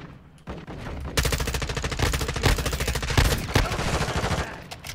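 Modern Warfare 2 gameplay carries a long, loud, rapid stream of automatic gunfire. After a brief start, shots rattle in a fast steady rhythm almost without pause.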